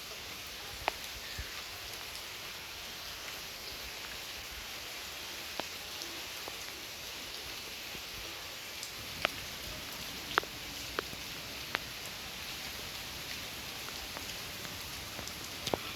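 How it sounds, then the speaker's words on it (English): Steady rain patters on surfaces outdoors after a heavy overnight downpour, a continuous soft hiss with scattered louder drips landing close by, no one speaking. "how do you like this rain,"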